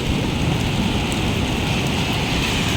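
Steady rain falling outdoors during a walk, a dense, loud, continuous patter without letup, with no voices over it.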